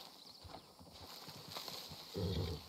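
Horse hooves clip-clop at a steady walking rhythm in the video game Red Dead, moderately close, with a denser, louder stretch near the end.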